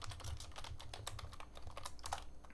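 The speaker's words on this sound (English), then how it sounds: "So we've just typed hello world here just so we can compare the two" Rapid, steady clicking of keys on a computer keyboard while typing a short line of code for an Amstrad CPC, close-up and fairly quiet, with no voices.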